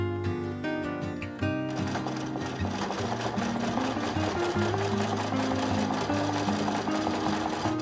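A sewing machine stitches a zigzag line across a quilt, starting with a brief quick burst of stitching, then running on in a steady, even whir with a rhythmic mechanical hum.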